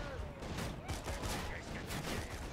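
Distant gunfire between enemies in Borderlands 2, dense fusillade crackle that runs steadily through the moment beneath busy game ambience, with no spoken voice over it.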